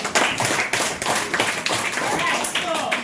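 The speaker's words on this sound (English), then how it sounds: "Alright, one more round of applause for." A school audience at a primary school literacy day claps in a burst of applause lasting about three seconds, with dense, close hand claps and some voices mixed in.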